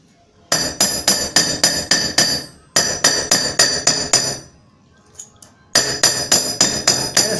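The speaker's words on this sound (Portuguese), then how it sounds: "Para endurecer, martela." A hammer strikes copper over and over to harden it, with loud, ringing metallic blows in quick, even bursts of about six to eight hits, separated by short pauses.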